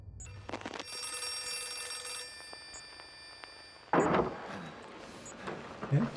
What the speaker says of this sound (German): Irgendwo klingelt ein Telefon, ne?